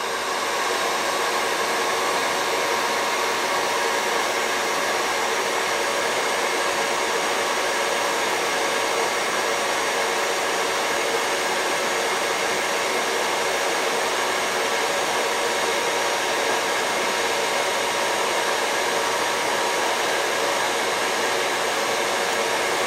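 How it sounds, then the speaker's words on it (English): A blow dryer heating air for a DIY solar air heater test runs continuously at close range, a steady loud whooshing roar with no pauses. "used a blow dryer to raise the temperature"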